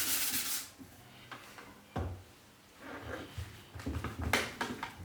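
Sandpaper rubs over the root end of a bamboo shakuhachi in short, quiet scratchy strokes with brief pauses between them, close and faint.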